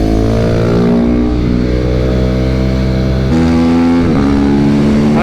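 A 2022 KTM RC 390 motorcycle revs loud and close on a track, its engine note climbing in pitch, briefly dipping and then surging again.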